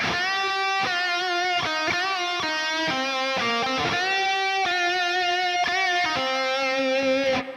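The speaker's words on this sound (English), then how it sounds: "Now this lead guitar part sounds like this." An electric lead guitar plays a rhythmic, distorted melodic line with repeated notes and bends, steady and loud, no voices.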